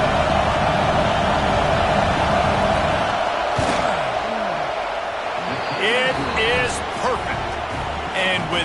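A football stadium crowd roars as a field goal team lines up on fourth down, a loud continuous wash of massed noise with whistles and shouts poking through and a commentator talking over it.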